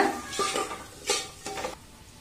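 Chili powder being stirred into a hot pan for chapati kurma, with a few short scraping strokes over a soft sizzle, close and fairly quiet, no voices.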